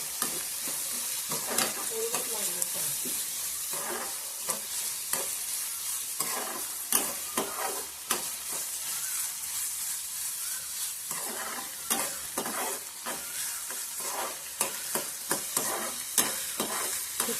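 Onion sizzles steadily in a pan for a Malvani-style vali vegetable dish, while a spoon stirs and scrapes in repeated bursts over the continuous frying hiss, close and clear.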